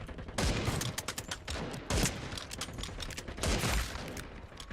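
Sniper rifles fire in an FPS video game as a few loud, sharp shots with rattling tails, each following quickly on the last, close and without any talking.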